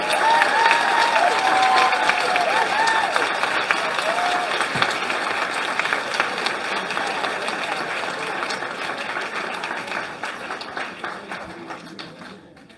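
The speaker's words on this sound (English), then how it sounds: "Round of applause for all 6 candidates." A crowd applauds for a long stretch at a New Blue Ontario campaign launch in Cambridge, Ontario. The steady, dense clapping fades gradually toward the end, and a voice is briefly heard early on.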